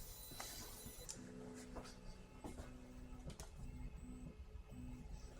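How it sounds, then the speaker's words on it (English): A Voron 3D printer runs quad gantry leveling, its stepper motors humming in short repeated tonal bursts with small ticks as the probe taps the bed, faint and steady throughout. "So we're going to send a quad gantry level, and we'll see what happens here."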